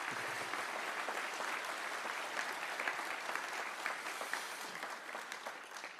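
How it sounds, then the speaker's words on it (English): Sustained applause from a large audience at the closing ceremony of the 2025 International Physics Olympiad in France, honouring Nobel laureate Alain Aspect; dense, steady clapping fills the hall at an even level throughout. "Mr. Alain Aspect. You can applaud him."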